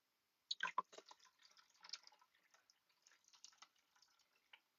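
Lime water poured slowly by hand while making Halloween ghost soap, a soft trickle of drips and splashes that starts with a few louder drops and then continues quietly and unevenly.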